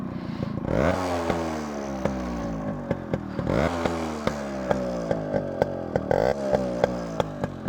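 A Yamaha RX100 two-stroke motorcycle revs repeatedly up close, each blip climbing in a loud, raspy, chainsaw-like buzz before dropping back, with sharp ticking pops between throttle bursts.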